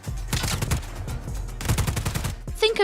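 Enemy gunfire crackles in rapid, rolling bursts during Just Cause 4 gameplay, layered with explosions and busy game action.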